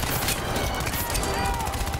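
Rapid bursts of video-game gunfire crackle throughout, with a voice talking over the shooting.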